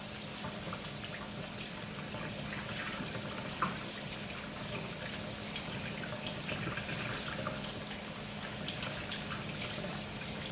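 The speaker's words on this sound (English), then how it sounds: "I'm just gonna rinse it really well." Tap water runs steadily into a sink as raw chicken breasts are rinsed in a colander, a continuous close splashing wash with no talk.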